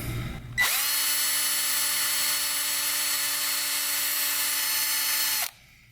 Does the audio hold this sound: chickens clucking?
no